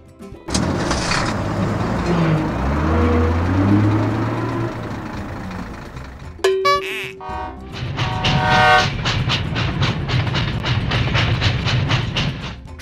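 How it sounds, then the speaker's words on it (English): A train rumbles past with a loud horn blast midway, followed by a steady rhythmic clatter of wheels over rail joints. "train."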